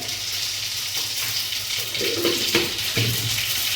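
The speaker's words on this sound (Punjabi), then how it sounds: "ਆਪਣਾ ਪੱਕ ਚੁੱਕਾ ਇਹਦੇ ਵਿੱਚ ਪਾਵਾਂਗੇ ਆਪਾਂ ਜੀਰਾ" Cumin seeds frying in hot oil in a Punjabi dhaba kitchen, a steady close sizzle with soft crackles and a few stirring clinks, no one talking.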